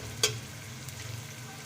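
Onions, tomatoes and ginger-garlic paste fry for a daal mash masala in a steady, close sizzle, with a single sharp scrape of a spoon at the start, then soft stirring sounds.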